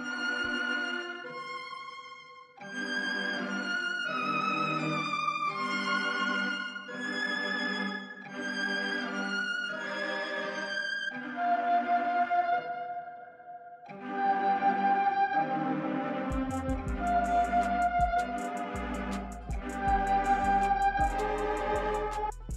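A dark southside-style melody sample, pitched way down and rendered, plays alone: slow, moody repeating synth notes that fade, then return with a deep bass entering near the end, steady and unaccompanied by talk.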